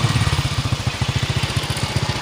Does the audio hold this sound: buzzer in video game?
no